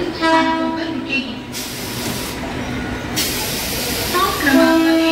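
A Mumbai Central Line local train at a station platform, with drawn-out horn tones at the start and again near the end over steady rumble and crowd noise.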